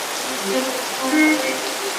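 Steady rain falls across a campus, a continuous even hiss of drops on surfaces with no pauses, moderately loud and fairly close.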